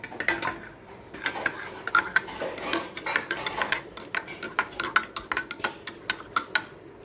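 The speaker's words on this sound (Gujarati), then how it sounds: "અને એની પહેલાં આપણે એકવાર હલાવી લઈશું" A metal spoon stirs soda mixed with jaljira and lemon in a glass, giving a steady series of bright clinks and taps against the rim and sides, close up and with no talk.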